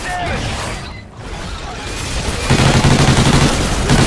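Turret gunfire in the Call of Duty Ghosts Extinction video game: dense, steady automatic fire in a continuous loud stream that grows heavier partway through, with a faint voice briefly underneath.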